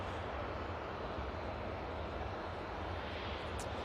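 A Ryanair airliner arriving from Milan Malpensa at Manchester Airport makes a steady, broad jet roar that holds at even loudness throughout, with wind rushing across the microphone.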